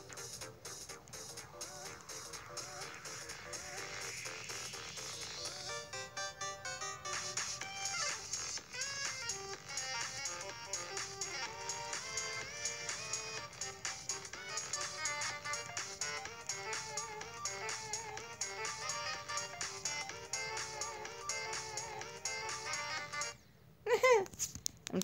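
Busy electronic game music from Geometry Dash fills the whole stretch, dense synth layers with a rising sweep near the start, steady and fairly loud, then a brief dropout and a couple of sharp bumps at the very end.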